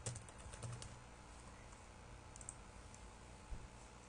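A password is typed on a computer keyboard, the soft clicking keystrokes tapping in quick irregular bursts, close but quiet, with no talking.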